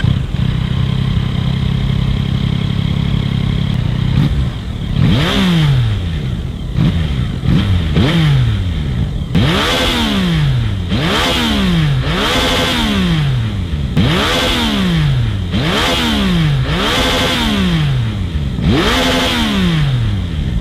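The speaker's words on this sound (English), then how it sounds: "I'll try to find the sound clip of the Yamaha R9 for you guys" A Yamaha R9 motorcycle in an indoor showroom idles with a smooth steady drone, then is blipped repeatedly, each rev swelling sharply and falling back in close, loud bursts.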